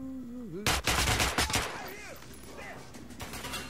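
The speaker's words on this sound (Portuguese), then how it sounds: "Eu vou ter que atirar." Loud gunfire in the video game Metro: Last Light, with a rapid automatic burst of close shots followed by scattered echoing impacts, while a voice and pitched game sounds play at the start and under the fading tail.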